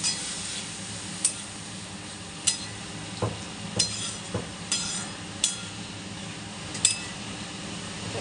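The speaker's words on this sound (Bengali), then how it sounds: "মশলাটা কষানো হয়ে গেছে, একদম তেল ছেড়ে দিয়েছে। এবার আমি অল্প করে জল দিয়ে দেবো।" Spice paste fried down until the oil separates in a pan for a prawn and fish curry, with a little water then added, producing a soft steady sizzle broken by occasional clinks and scrapes of a spoon.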